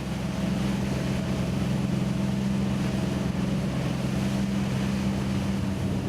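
A Cranchi M 38 HT motorboat engine drones steadily at cruising speed, a loud, continuous roar with wind buffeting, no talking.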